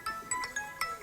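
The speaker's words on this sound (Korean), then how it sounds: "늘 끄던 전화기가 내가 안 꺼져서 지금 울었었네" A mobile phone rings with a repeating electronic ringtone, four short bright bursts at an even pace, fairly faint in a quiet room during a Buddhist monk's sutra lecture.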